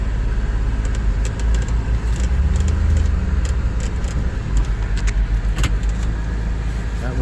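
A 2002 Pontiac Bonneville driving down a road, its engine and tyre rumble steady and close inside the car, with faint rattles and jingling throughout and no talk.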